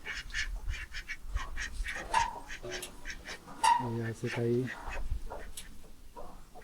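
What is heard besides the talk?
ducks quacking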